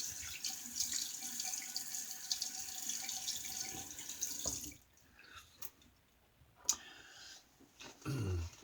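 Water running from a tap for rinsing during a shave, a steady close gush that stops about halfway, followed by quieter drips, small splashes and handling sounds.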